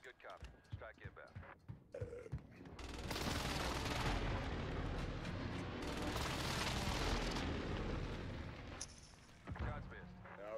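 A called-in air strike in the Warzone video game lands as a sustained, loud roar of rumbling explosions lasting several seconds, with voice chat before and after.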